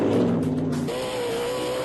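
A TORC off-road race truck engine with a Borla exhaust roars loudly, its exhaust note shifting pitch mid-way as the revs change toward about 6,000 RPM, close and continuous, at Chicagoland.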